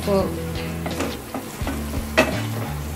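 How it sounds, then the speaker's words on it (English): Cheese pieces saute in a pan with a continuous close sizzle, broken by scraping stirs and a few clinks of the utensil against the pan. "let me saute once again in order to add color to the pieces of"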